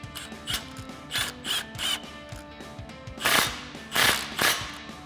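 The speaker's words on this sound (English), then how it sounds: "Now we'll go ahead and snug that up using our 15 millimeter socket." A ratchet with a 15 mm socket snugging up an exhaust pipe clamp on a RAM 1500, producing loud, close bursts of rapid pawl clicking in repeated strokes.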